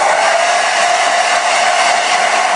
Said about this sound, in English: I will use my blow dryer to quickly dry this so I can already layer the next layers